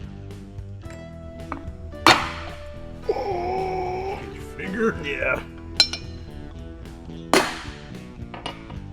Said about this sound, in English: We use this thing and we hit it with a hammer.